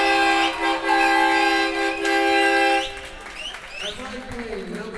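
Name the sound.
air horn blast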